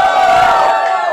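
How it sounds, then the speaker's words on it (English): Crowd at a rap battle shouting and cheering in a loud, sustained roar that swells and then eases off toward the end. "Y'all have to make some noise,"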